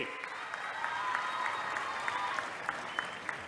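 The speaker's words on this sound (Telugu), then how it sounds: "గట్టిగా చప్పట్లు కొట్టి అభినందించండి" An audience at a public event with Chief Minister Chandrababu in Rampachodavaram claps steadily and continuously, a crowd's applause with some scattered sharper claps, heard at a moderate distance.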